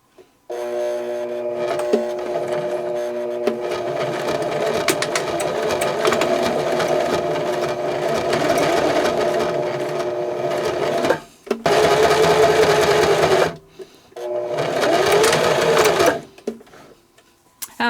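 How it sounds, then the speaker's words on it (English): A sewing machine stitches along the edge of a leather magnetic bookmark in long, steady runs, loud and close, stopping briefly and starting again in two shorter bursts near the end. "I can feel it while I'm sewing, and I'm just going to follow along the groove on that presser foot to do my stitching."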